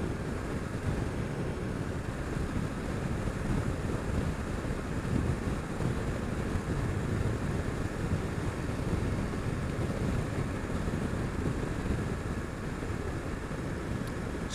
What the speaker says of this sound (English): It's the sea out there.